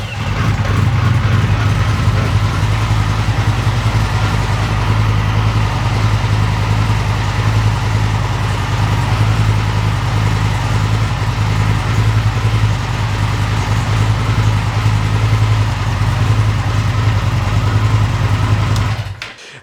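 A motorcycle engine idling loudly and steadily up close, a constant low chugging rumble that cuts off at the end.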